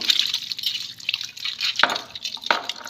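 Water splashes and trickles over a conch-shell bangle as it is rinsed clean, a steady close wash of drips and pouring with a couple of sharper splash accents.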